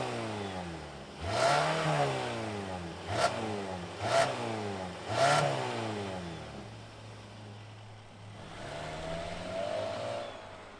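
A 2023 Hyundai Tucson XRT accelerates through several gear-like revving sweeps, each rising pitch climbing and dropping in sequence, moderately close, then settling into a steadier cruising drone with no talking.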